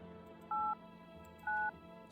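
Two short dual-tone telephone dialing beeps sound in the game No, I'm Not a Human, evenly spaced about a second apart and clear over a low steady background hum.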